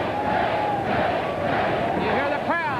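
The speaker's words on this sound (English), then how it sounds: "You hear the crowd chanting, Sting, Sting" A wrestling arena crowd in Nashville, Tennessee, roars and chants for Sting during his match against Irwin at Clash of the Champions VII, a loud, sustained wash of many voices with a brief sharper shout near the end.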